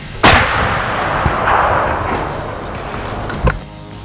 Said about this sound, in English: pulled the trigger. The bullet tore through the air.